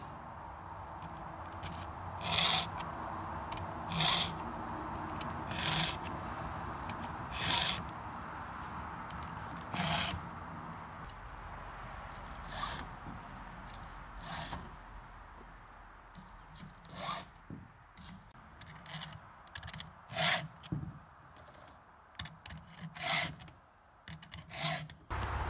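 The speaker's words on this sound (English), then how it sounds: "I hit the chain one more time with the 2-in-1 sharpener" A chainsaw chain being sharpened with a 2-in-1 file sharpener during tree cleanup; a steady series of close, rasping file strokes, evenly spaced and fairly quiet, with no talking.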